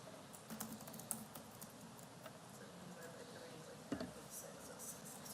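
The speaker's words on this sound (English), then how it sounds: "She was typing so hard." Rapid, hard typing on a computer keyboard in a meeting room, faint clicks and taps forming a steady patter under quiet background noise.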